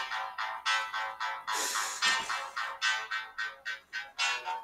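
A mobile phone rings alone with a repeated electronic tone pattern, about a dozen short bursts in steady rhythm, moderately loud and close.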